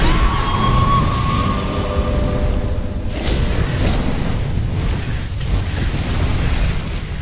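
A heavy, rumbling explosion as a tower is destroyed in Dota 2, a dense, sustained boom with crackling debris that stays loud and roiling throughout, with faint tonal game sounds early on.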